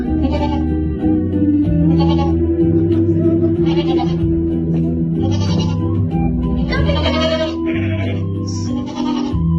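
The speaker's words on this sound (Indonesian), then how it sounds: "Aku takut kambing." Goats bleat repeatedly in a forest setting, their calls loud and close, rising in bursts every second or so over a steady, low-pitched musical bed.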